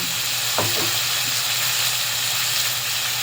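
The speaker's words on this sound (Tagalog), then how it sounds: "Ituin natin maigi ang ating kamatis" Tomatoes sautéing in a pan, a steady close sizzle of frying with a brief scrape of stirring near the start.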